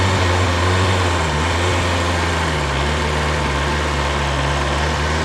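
A motorcycle engine idles steadily and close during a private group riding lesson, a continuous buzzing drone with no voices over it.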